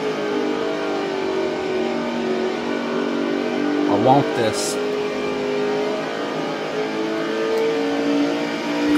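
A NASCAR Cup race car accelerates at New Hampshire, its engine holding a loud, sustained harmonic whine and roar from inside the car, with a voice talking over it partway through.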